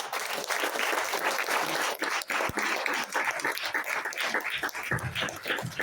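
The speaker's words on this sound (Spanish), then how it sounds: "¿Cuántos podemos darle un fuerte aplauso al Señor?" Congregation applauding during a church service, a dense continuous clapping that fills the space with uneven bursts and brief dips, loud and close throughout.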